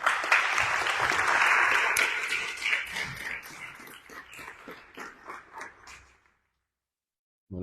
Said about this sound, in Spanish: Y le damos un fuerte aplauso.